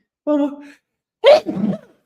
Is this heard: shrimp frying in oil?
no